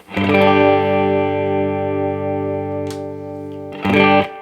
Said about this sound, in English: That's what it sounds like with the fat switch turned off.